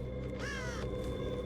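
Single crow caw from the Dead by Daylight game, a short harsh call over a steady droning game ambience.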